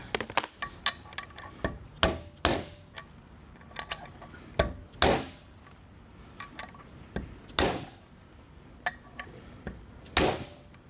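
Sharp metallic taps strike the valves of an assembled 2008 Honda CBR1000RR cylinder head, about a dozen loud, close clinks at uneven intervals with brief ringing, and no talking.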